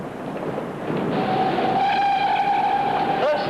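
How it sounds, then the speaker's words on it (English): Busy railway station platform in a 1950s British film: a steady rumble of a waiting train fills the scene, then a long sustained whistle sounds near its end, rising briefly before it cuts off. "The 7:25 train for Little Hobson will leave platform"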